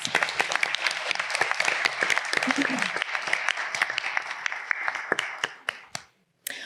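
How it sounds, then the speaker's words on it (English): A pitch competition audience claps in sustained, dense applause for the event sponsors, fading out near the end. "let's give a round of applause for our sponsors"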